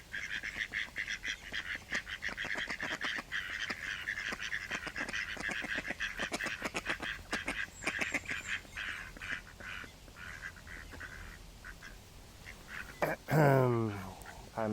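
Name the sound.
ducks quacking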